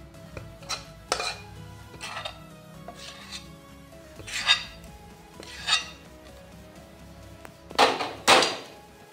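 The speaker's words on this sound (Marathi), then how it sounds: "आता आपलं हे मिश्रण आपल्याला थाटात काढून घ्यायचं आहे" Metal clatter and scraping as a coriander vadi mixture is pushed out of a pan onto a plate, with several sharp bursts of spoon-on-metal scraping and clinks spaced irregularly, the loudest near the end.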